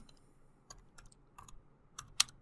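Quiet keystrokes on a computer keyboard while writing Python code, a few scattered clicks and then a short burst with one sharper, louder tap near the end.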